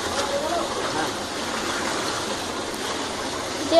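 Water rushes steadily through a river at a village handloom site, a continuous broadband gush at close range with little change in level across the stretch.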